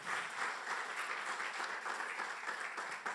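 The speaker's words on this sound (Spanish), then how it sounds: "¿Quién le quiere dar un aplauso a las pastoras Cecilia y Yuri?" A church congregation applauds during a Sunday sermon, a full, continuous roar of many people clapping together, steady and fairly loud from start to finish.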